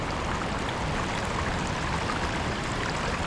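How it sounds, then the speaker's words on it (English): Small waterfall at Rock Island pouring through woods, a steady broadband rush of falling water with no pauses, close and fairly loud, heard alone without voices. "There's nice little falls up there."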